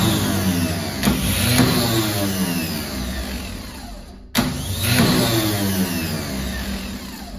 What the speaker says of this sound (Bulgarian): Така, стартера ни е готов. Само една проба.